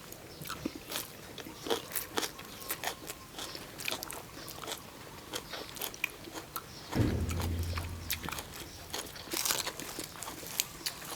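Crunchy raw vegetables bitten and chewed alongside spicy papaya salad with duck eggs, close crisp crunches and soft mouth sounds in an irregular rhythm, with a louder rustling thump partway through.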